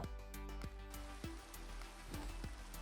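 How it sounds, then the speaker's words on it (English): Steady rain patters on a surface in a video game, with a series of sharp, evenly spaced clicks and knocks over the hiss. "Well, it's raining"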